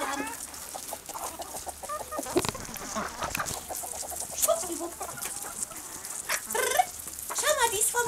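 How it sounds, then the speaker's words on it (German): Chickens cluck close by in a winter coop, with busy overlapping clucks and squawks and a soft scratching bustle throughout, and a voice murmuring in places. "Eine Henne Bertha ist da vorne"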